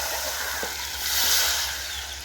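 Meat stock left from boiling country chicken pours into a biryani pot, a soft continuous watery hiss and slosh, faint and close, swelling slightly midway.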